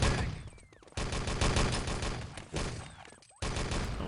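Rifle and automatic gunfire ring out in a 6-on-6 LAN tournament match of the video game Enemy Territory, with dense, loud rapid volleys starting and stopping in a few abrupt bursts and no talk over them.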